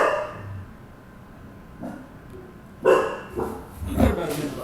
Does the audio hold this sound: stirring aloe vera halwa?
no